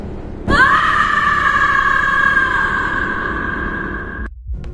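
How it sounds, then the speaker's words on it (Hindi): A woman's loud, sustained scream in a hospital corridor rises sharply and holds for several seconds before cutting off, with a reverberant echo around it. "उसकी तेज चीख पूरे कॉरिडोर में गूंज उठी"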